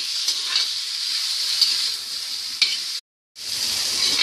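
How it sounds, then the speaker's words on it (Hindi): Besan gatte fry in hot oil in a kadhai, a loud, continuous bright sizzle up close, briefly cutting to silence before the frying hiss resumes. "तेल गर्म हो चुका है, अब इसमें हम गट्टों को भूंजेंगे"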